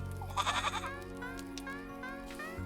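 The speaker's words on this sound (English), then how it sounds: "What's the goat doing in the house?" A goat indoors in a house lets out a clear, wavering bleat near the start, then a softer drawn-out bleat follows, both loud and close against a steady low hum in the room.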